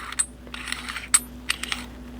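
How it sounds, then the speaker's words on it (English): Top section of a Luke Skywalker V2 lightsaber hilt from NSabers being unscrewed by hand, giving close, sparse metallic clicks and light threaded scraping with short sharp ticks scattered over about two seconds, no talking. "you're just going to simply unscrew this top section as such"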